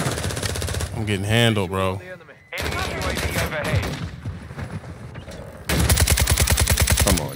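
Gunfire in the video game Call of Duty: Warzone 2.0, loud bursts of rapid automatic shots in close succession, broken by a short pause, while a player talks over the action.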